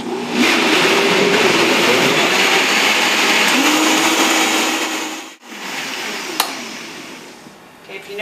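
A blender full of tomatoes runs loudly and steadily with a whirring motor, its pitch dipping briefly partway through before it continues churning.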